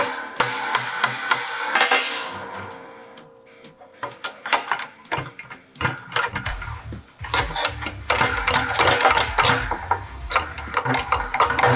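Work on the brake pedal assembly of a 1966 GMC truck in a fabrication shop: irregular metallic hammer strikes, taps and prying clanks, sparse at first and then denser and louder toward the end.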